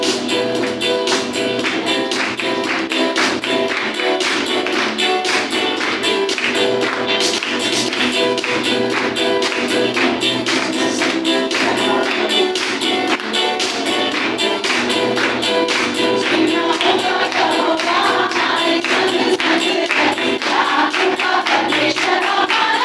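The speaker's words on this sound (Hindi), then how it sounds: "आइए हम सब मिलकर तालियों के साथ परमेश्वर की आराधना करें।" A church congregation claps along during a Sunday worship service in New Delhi, steady rhythmic handclaps continuing for the whole stretch, loud and dense, blended with worship music and no talking.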